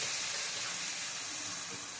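Crab fry sizzles in hot oil after a splash of water goes into the pan, a steady, bright hissing crackle that fills the short stretch with little variation and no talk.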